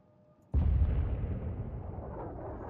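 A missile explodes in Dying Light 2: a sudden heavy boom after a brief quiet moment, followed by a long rumbling roar that slowly fades while staying loud.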